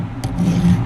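A square file rasps across a chainsaw's depth gauge, or raker, in one short, close, gritty stroke lasting under a second.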